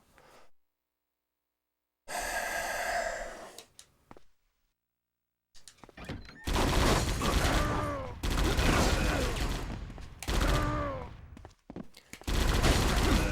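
Machine-gun fire in the video game Die Hard: Vendetta comes in long, loud, dense bursts after a quieter opening with a short mechanical sound and brief silences.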